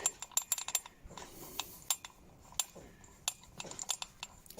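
A ratchet socket on a bar turns to undo the crank pulley bolt on a Citroen/Peugeot XUD engine. Quick clicking ratchet strokes come in bursts with a few metallic clinks, close up and without talking.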